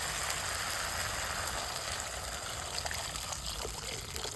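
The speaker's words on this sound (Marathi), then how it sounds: "तर यामध्ये थोडंसं पाणी टाकून घेऊ।" Water trickles into green peas masala gravy in a pan, a soft, faint, continuous pour heard up close without any talking.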